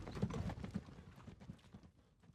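Horses' hooves clip-clop in a quick, uneven rhythm at a carriage departure, moderately near at first and then fading as they move away, with no voices.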